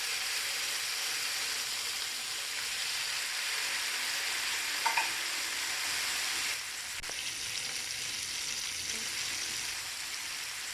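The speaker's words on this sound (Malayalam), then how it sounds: "ഇനി നമുക്ക് ചിക്കൻ ആദ്യം ഹൈ ഫ്ലെയിമിൽ 2 മിനിറ്റ് ഫ്രൈ ചെയ്തെടുക്കാം." Chicken tikka pieces fry on high flame in a pan with a steady, broadband sizzle that holds through the whole stretch, with a brief clink near the middle and a slight surge later.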